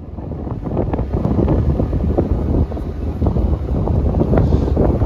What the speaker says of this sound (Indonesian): kalau nggak panas anginnya benar-benar kenceng